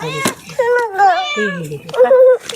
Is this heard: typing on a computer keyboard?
no